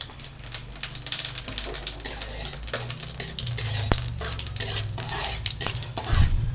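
Cumin seeds crackle and pop rapidly in hot oil in a pan, a dense irregular spatter of tiny snaps with a louder clink of a utensil partway through.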